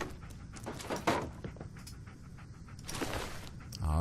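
Dogmeat, the dog companion in the Fallout 4 video game, pants in quick, steady breaths at close range for a few seconds, with faint game ambience and small clicks around it.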